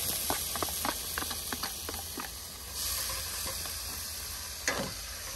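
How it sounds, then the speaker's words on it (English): Mushrooms sizzle in a pan over an outdoor fire, a steady close hiss with scattered crackles and pops, and a brief louder flare of spitting near the end, no talking. "Look at the sound, the sizzling sound in the open air."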